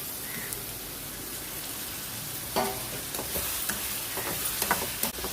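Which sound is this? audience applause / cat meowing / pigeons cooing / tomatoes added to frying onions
tomatoes added to frying onions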